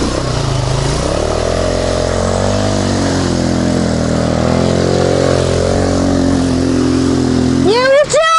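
KAYO 180 quad bike engine running loud and close, with a steady droning rev that rises and falls in pitch, ending in a sharp revving surge.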